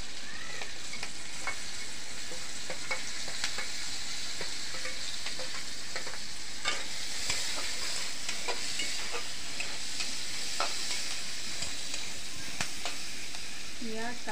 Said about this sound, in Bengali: তেলের মধ্যে একটু ভেজে নিতে হবে। ভালো করে একটু লাল লাল করে ভেজে নিতে হবে বন্ধুরা।